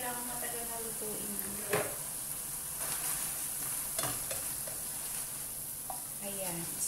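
Water spinach (kangkong) adobo sizzling and being stirred in a pan, a steady frying hiss with occasional utensil scrapes and clinks, close up, with faint voice in the background.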